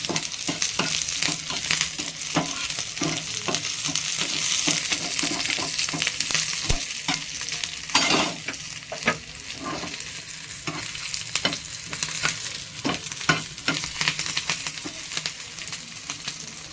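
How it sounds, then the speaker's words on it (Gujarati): Green chillies fry in hot oil in a home kitchen, producing a loud, steady sizzle. Repeated spoon clinks against the pan come through it over a long stretch, with no talking. "હવે થોડાક મરચાં તળી લઈએ. મરચાં આપણે આમાં તળી લઈશું."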